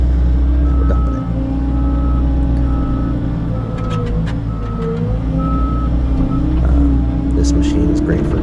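A Bobcat T66 track loader dumping a bucket of dirt, its steady loud diesel engine droning throughout with a repeating reversing beep and occasional clanks, and talk over it.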